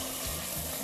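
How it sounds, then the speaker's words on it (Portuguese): Battered fish fries in hot oil with a steady, soft crackling sizzle, continuous and fairly close, without talk. "Dá pra sentir o barulhinho na fritura, gente?"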